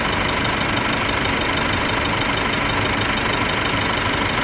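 A car engine runs at a steady idle, loud and close, a continuous even rumble with no talk over it.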